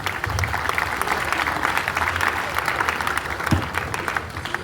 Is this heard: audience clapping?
yes